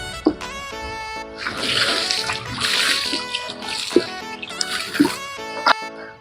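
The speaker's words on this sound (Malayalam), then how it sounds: "ഇനി അതിൻ്റെ മേലെ കുറച്ച് വെള്ളം കൂടി നമുക്ക് ഒഴിച്ചു കൊടുക്കാം" Water splashes as it is poured over a newly planted Nendran banana plant, making hissing pulses of flow under steady background music.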